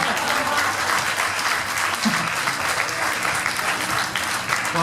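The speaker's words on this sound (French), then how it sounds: "Et là, vous avez le droit de m'applaudir" An audience claps steadily, a dense sustained wash of applause throughout at moderate loudness.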